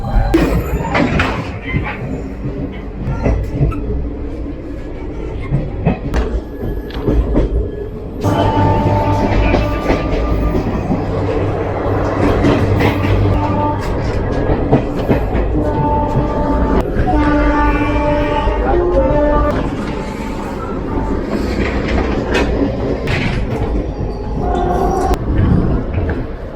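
An Indian Railways Yuva Express AC chair car rumbles steadily along, a continuous low rolling drone with clanking and rattling throughout and a faint horn-like tone partway through.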